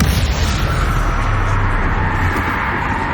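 A Confringo explosion spell erupts in Hogwarts Legacy, a loud, dense, roaring blast that fills the whole moment with sustained rumbling energy and no voices.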